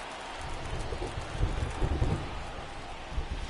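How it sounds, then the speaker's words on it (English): Rain falls steadily with low rumbles of thunder rolling underneath during a Cubs at Pirates baseball game in MLB The Show 24, a soft constant wash with no voices. "It feels like we might be headed towards a rain delay if the weather doesn't ease up"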